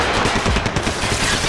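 Gunfire in the video game Max Payne 3, a short dense burst of rapid automatic shots, loud and close, with no talking.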